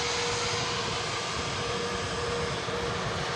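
An easyJet airliner rolls at Manchester Airport, its engines giving a steady, distant broadband roar with a faint sustained whine, unbroken for a few seconds.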